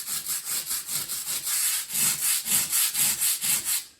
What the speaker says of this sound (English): I want to scrub it with some good force.